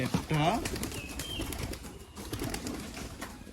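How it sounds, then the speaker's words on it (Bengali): Pigeons in a rooftop coop, with a short burst of flapping wings near the start, then low rustling and faint cooing against a steady outdoor background. "এই হচ্ছে আমাদের কবুতরের খোপ"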